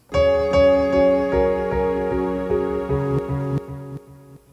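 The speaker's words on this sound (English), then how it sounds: "if I add an effect, let's say delay, it now sounds like this" A sampled tonal musical phrase plays through a Roland SP-404 MKII sampler's delay effect, notes repeating and trailing off as the sound fades out at the end.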